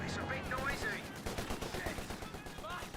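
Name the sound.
machine gun fire in video game Company of Heroes 2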